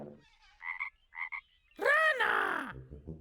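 A cartoonish frog croak rings out in a clear, loud burst after a few short chirpy sounds, standing alone in a children's animal-sounds program.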